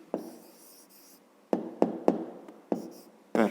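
A pen writes down a math answer at close range, with short scratchy strokes and light taps coming in quick clusters separated by brief pauses, no talking.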